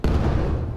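A single grenade goes off in Battlefield 1 with a sharp, loud, close boom that decays into a rumbling tail within a second.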